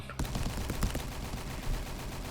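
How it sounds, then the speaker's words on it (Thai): An M249 machine gun fires in the Roblox game Last Run, rapid bursts of loud, rattling shots that start abruptly and keep going without talk. "M249 มันเป็นปืนกลนะครับ แมชชีนกัน มันค่อนข้างดีดพอสมควร"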